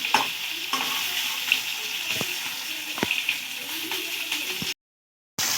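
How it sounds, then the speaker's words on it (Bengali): Onions and eggs fry in hot oil for a whole-onion curry, producing a dense, loud, close sizzle with occasional spoon taps. It breaks off into a short silence near the end before resuming briefly. "পেঁয়াজ আর ডিম দেখুন একদমই লাল লাল করে ভেজে নিয়েছি"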